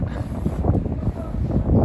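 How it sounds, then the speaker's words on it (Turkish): Strong wind on the Black Sea coast around Akçakoca buffets the microphone with a continuous low roar and rumbling gusts, no voices. "Rüzgar umarım sesini şey yapmamıştır, bayağı rüzgar esiyor"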